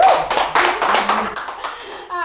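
A small group claps for friends at the close of a gathering, a few uneven rounds of close hand claps that thin out, with a voice at the end.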